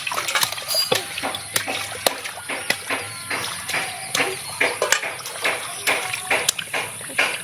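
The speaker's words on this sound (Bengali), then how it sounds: "গা ডলবে না, ও জল ছিটাবে।" A baby splashes bathwater with a run of irregular slaps and spatters, near and lively, while adults talk over the top.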